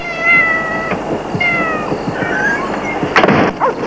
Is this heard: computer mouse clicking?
no